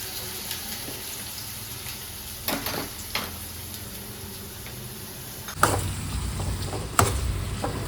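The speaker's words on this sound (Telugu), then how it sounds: "ఫస్ట్ ఆనియన్స్, బ్రౌన్ ఆనియన్స్ కోసం ఫ్రై చేసుకుందాము" Onions frying in a small amount of oil in a pan for chicken dum biryani, a steady low sizzle with scattered stirring clatters and a louder burst of crackling near the end.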